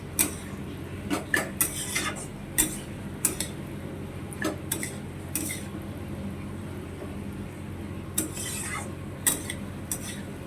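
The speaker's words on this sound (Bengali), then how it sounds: "এবারে এইগুলো দিয়ে দেবো, ফুলকপি আলু সয়াবিন। তো এটাকে ভালোভাবে একটু কষে তারপরে জল দিই" Cauliflower, potato and soybean with spices being stir-fried in a pan, a spoon scraping and clinking against the metal in irregular sharp knocks over a low steady sizzle, close by.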